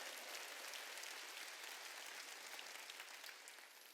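Steady applause from a church congregation at a Wednesday worship service, a dense continuous wash of many hands clapping at moderate distance that thins slightly toward the end.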